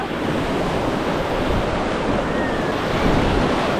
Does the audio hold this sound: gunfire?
no